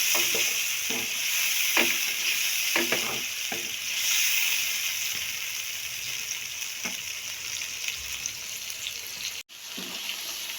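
Potatoes fry in a pan with a steady sizzle, broken by scattered scrapes and stirring knocks, and a brief dropout near the end.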